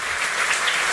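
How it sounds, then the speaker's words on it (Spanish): Applause from a church congregation during a sermon, a dense, steady wash of many hands clapping together for just under a second, fairly loud and even. "dese un aplauso a usted"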